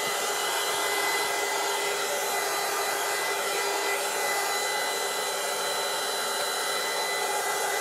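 A dryer blows steadily on a 30x30 scrapbook page, a constant close, loud whoosh with no pauses throughout.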